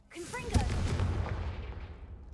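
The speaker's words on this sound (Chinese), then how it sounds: "单纯只有爆炸而已，没有火焰。" A single sharp blast erupts and rolls off into a fading rumble, with synthetic game-like tones just before it, in Hogwarts Legacy; explosion without flames.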